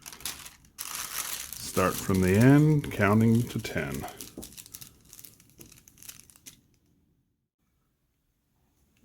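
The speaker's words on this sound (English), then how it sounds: "Get my wax paper." Wax paper crinkles and rustles while a no-stitch fabric face mask is made, the papery crackle coming in bursts near the start and mixing with a person talking, then fading to quiet.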